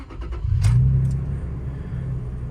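A 2007 lifted Toyota Tacoma's engine cranks briefly and catches, flaring once before settling into a steady, low, fairly quiet idle, heard up close with no talking.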